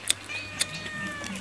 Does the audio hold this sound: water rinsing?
no